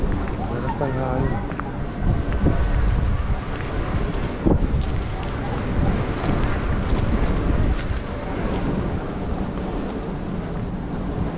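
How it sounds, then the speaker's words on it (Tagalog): Strong wind blows across a hilltop windmill farm at Pililla and Tanay, Rizal. Heavy gusts roar and buffet the microphone in uneven surges while people talk over the noise. "Lakas ng hangin."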